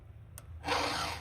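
A hand file rasping across a chainsaw chain, a brief tap followed by a sustained gritty stroke, close and fairly quiet, with no talking.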